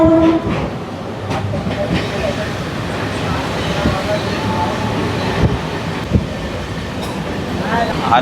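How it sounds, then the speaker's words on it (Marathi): A Mumbai Harbour line local train departs Dockyard Road station, which sits on a bridge, with a steady loud rumble of wheels and carriages and a few sharper knocks and clanks over the top. "तर आता लोकल निघाले डॉकयार्डवरून"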